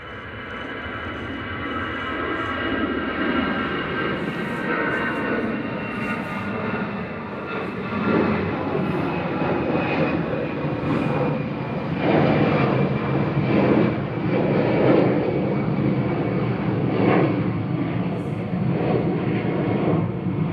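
Eurowings Airbus A320 jet departing Manchester Airport for Dusseldorf, a steady broadband engine roar that swells and holds for about twenty seconds, with a slowly falling whine running through it and no talk.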